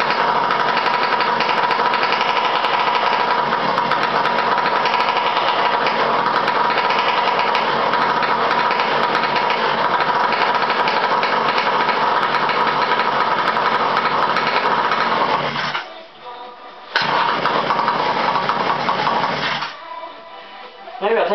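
A motorized bicycle's small engine runs cold just after starting, a loud steady high-pitched buzzing idle that cuts out briefly near the end, catches again, then drops away.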